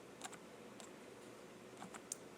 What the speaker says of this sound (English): So I'm going to go to Desmos, and I'm going to type in